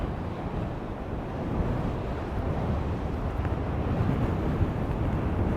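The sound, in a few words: strong wind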